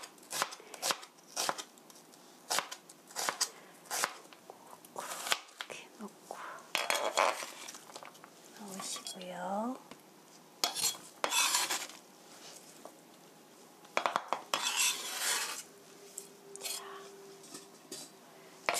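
A knife julienning vegetables for japchae on a cutting board, crisp, rapid chopping taps in quick runs with pauses, close by, and a soft voice speaking in between.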